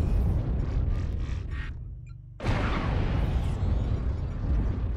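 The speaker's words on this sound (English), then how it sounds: "Artillery strike online." Video game artillery strike, a sudden loud blast erupting midway out of a brief lull, preceded and followed by sustained heavy rumbling explosions.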